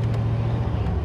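A 1999 Shelby Series 1 sports car rolls toward speed bumps, giving a brief, close, steady low engine rumble with no distinct bump thuds.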